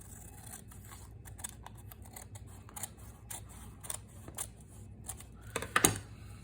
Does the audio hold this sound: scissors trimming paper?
yes